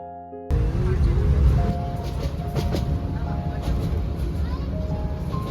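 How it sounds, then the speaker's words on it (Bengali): A train on the Chattogram to Cox's Bazar line pulls in with a heavy, close rumble and thin squealing tones, while people talk nearby. "এরপর ট্রেন চলে আসলে আমরা একে একে ট্রেনে উঠে গেলাম।"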